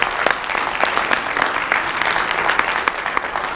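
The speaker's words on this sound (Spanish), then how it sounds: "Denle un fuerte aplauso al Señor." Church congregation applauding during a sermon: sustained, dense applause from a large crowd, steady and loud throughout with no clear pause, and faint voices mixed in underneath.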